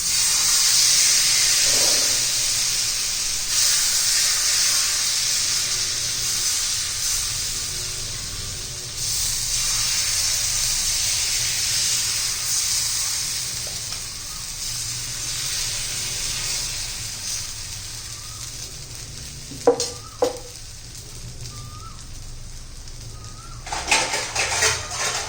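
Spring onion batter for crispy Vidarbha-style aayte hisses on a hot oiled pan, a steady, even sizzle that eases slightly over time, with a few faint clinks of utensils toward the end.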